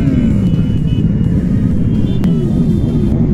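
A large group of about 140 motorcycles rides together through town in a charity rally, producing a dense, continuous engine rumble that fills the scene, with a few revs rising above it.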